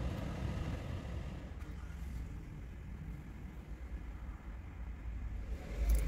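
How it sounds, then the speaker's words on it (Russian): A low, steady rumble of an express train passing a station at a distance, broad and continuous for several seconds, swelling slightly at the end. "Вот поезд."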